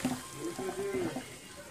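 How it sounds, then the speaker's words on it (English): Water pours and drains as cooked potatoes are strained through a strainer in a cleaned-out kitchen sink, a steady splashing rush close by with a voice talking over it. "We are going to go ahead and strain the potatoes."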